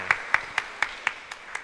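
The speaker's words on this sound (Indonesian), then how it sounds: "Kita berikan tepuk tangan," Sparse, evenly spaced claps ring out about seven times in a steady rhythm for Prof. Ali at an Indonesian national forum gathering, fairly close and moderately loud over a quiet room.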